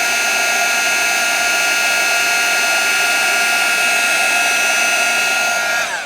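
A heat gun blows on embossing powder on a card, a loud, steady high-pitched whirring blower with a whining tone, running continuously and cutting off at the very end.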